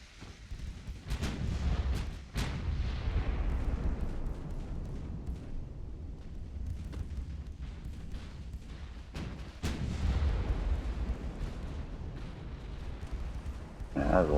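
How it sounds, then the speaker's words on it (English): Naval guns in the warship strategy game Ultimate Admiral: Dreadnoughts rumble in a dense, continuous barrage, with sharp cracks of individual shots breaking through the low roar at a steady moderate level. "Yeah, that's a lot of gunfire."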